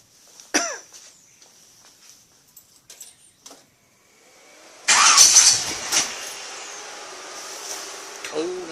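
A rat rod car engine, cold, cranks and catches after a stretch of near silence with a cough and small knocks, then bursts into a loud, rough running roar that gradually settles.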